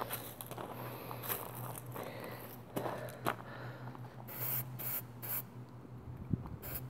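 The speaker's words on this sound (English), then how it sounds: "Just watch where your spray is going." Short hissing bursts from an aerosol spray paint can coating an umbrella stand, repeated at uneven intervals, fairly quiet against a low background hum.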